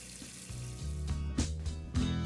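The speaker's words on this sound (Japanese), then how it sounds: "流水をかけて歯ブラシを使うと汚れが落としやすいですよ" Tap water runs over seri (Japanese parsley) roots as they are scrubbed clean with a toothbrush, a steady close splashing hiss with brief brushing bursts swelling through the run.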